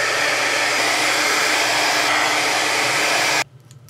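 A hair dryer blows on a dollar store napkin craft project, making a loud, steady, close rushing roar that cuts off abruptly near the end, leaving quiet room noise.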